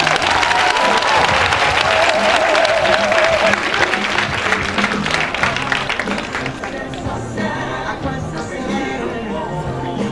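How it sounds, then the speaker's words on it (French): Women applauding and cheering at the official launch ceremony of a loan project with Orange Bank, a loud, dense crowd clapping that gradually thins and fades, with voices and music mixed underneath. "Je vais demander à toutes les femmes de s'acclamer elles-mêmes"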